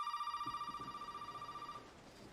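A telephone rings in Resident Evil 7 with a fast, steady electronic trill that lasts nearly two seconds and then stops, over faint low background noise.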